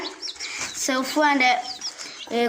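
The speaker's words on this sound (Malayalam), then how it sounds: "കോഴികളാണ്. 4 കോഴിയാണ്." Chickens cluck and squawk in short bursts close by, mixed with chirpy bird calls and a few voices in the background.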